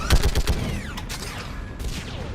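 Rapid bursts of gunfire in the Mass Effect game, a quick volley of sharp shots at the start followed by whooshing projectiles and mechanical whines, loud and close with a brief voice underneath.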